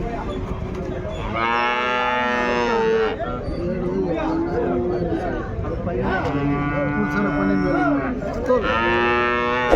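Jersey calves moo repeatedly in long, loud, drawn-out calls, close by, with a low murmur of voices in the background at a cattle market.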